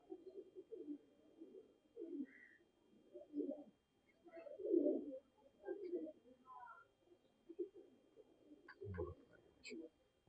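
Soft, low cooing phrases from a pigeon repeat through the clip, with a few brief higher chirps from other birds and a dull thump near the end.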